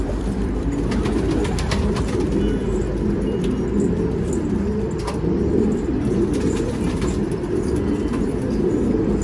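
Domestic pigeons coo on a village rooftop during a pigeon-catching session, soft repeated calls sitting under steady outdoor background noise with no talking.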